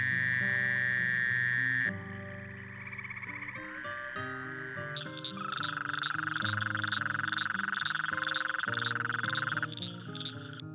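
Toads native to eastern Texas calling in a sustained chorus of tonal, pulsing trills that shift pitch partway through and run continuously without pause; no voices.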